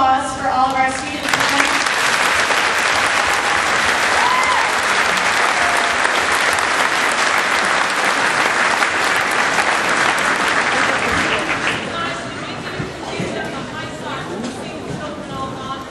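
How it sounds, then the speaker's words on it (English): A school holiday concert audience gives loud, sustained applause for the students, a dense clapping crowd that fades slightly toward the end, with a voice heard at the start. "So, a round of applause for all of our students."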